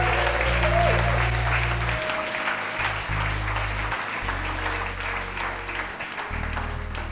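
A church congregation applauding the Lord Jesus: sustained, dense clapping from a large crowd that holds steady throughout, with a low musical drone underneath and no talk.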